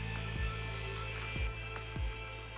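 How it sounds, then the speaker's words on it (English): A knife blade drawn across a spinning polishing wheel gives a steady high mechanical whir, with three brief scraping passes as the blade meets the wheel. "the blade is then passed over the polishing wheel at a more acute angle"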